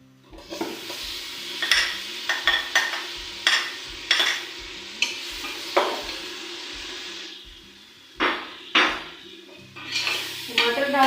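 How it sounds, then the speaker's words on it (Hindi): Tomatoes frying with masala and camel mince in a pan, a low sizzle punctuated by regular, fairly loud scraping stirs, then a few slower strokes near the end. "टमाटर डालने के बाद इसको अच्छी तरह फ्राई कर लेंगे"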